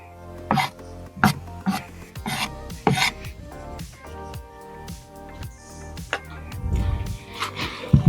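A peeler rasping down raw carrots in a kitchen, a series of short scraping strokes in an uneven rhythm, close and fairly loud, with a few louder knocks toward the end.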